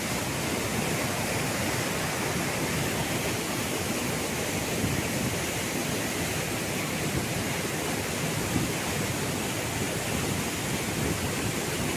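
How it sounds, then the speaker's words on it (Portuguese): Waterfall at Cachoeira da Torre in the Atlantic Forest of the Serra do Mar, a steady, dense broadband roar of falling water that holds unbroken and loud throughout, with no voices. "Cachoeira da Torre."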